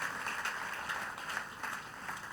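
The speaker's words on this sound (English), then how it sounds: "Clap for Jesus Christ." A church congregation claps for Jesus Christ in a dense, continuous patter of many hands, fairly faint and even throughout.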